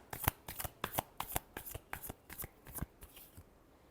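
A deck of tarot cards shuffled by hand, with about a dozen quick, crisp riffling snaps in a steady rhythm, close and clear, fading out near the end.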